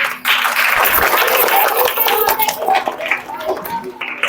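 Applause and clapping from a crowd at a children's Republic Day prize-giving ceremony, dense and sustained throughout with a few voices mixed in.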